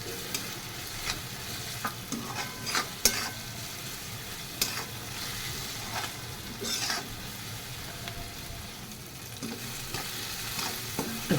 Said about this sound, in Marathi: आता टोमॅटो घालून चांगलं मिक्स करून घ्यायचं.